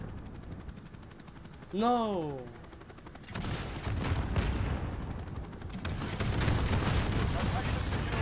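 Helicopter gunfire from a chopper gunner killstreak in a Modern Warfare video game, dense sustained bursts after a rising electronic sweep, loud and continuous with voices talking over it.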